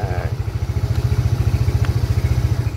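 A Yamaha Ego 115 motorcycle engine idles steadily up close after a rebuild, a fast even low-pitched putter with rhythmic pulses and light mechanical clatter throughout.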